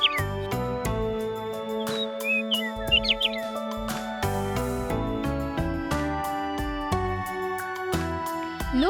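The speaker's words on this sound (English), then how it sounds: "A little bird is sitting there" A little bird perched on a house rooftop gives a few quick, high chirps, brief and light against steady bright music.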